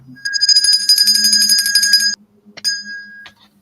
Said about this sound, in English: Is that the dinner bell?